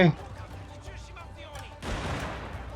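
Gunfire in the video game Total War: Shogun 2, a sharp blast at the very start followed by a rumbling volley of distant shots, with a voice talking over the battle noise.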